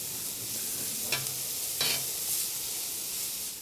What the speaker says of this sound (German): So, die Zwiebeln sind inzwischen angebraten.